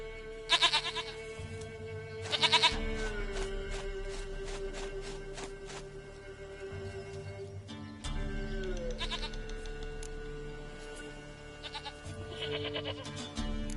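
A goat in the video game Witcher 3 gives a couple of bleats over steady ambient game music, with faint shuffling in between.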